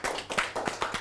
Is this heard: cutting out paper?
no